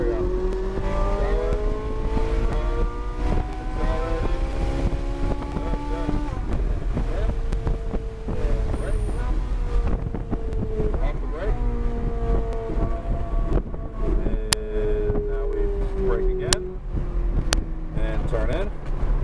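Sports car engine held at full throttle on a race track, among track-day cars such as a Porsche GT3 and Ferrari 458, a steady loud drone with gear-change steps over heavy wind noise, while a person talks throughout.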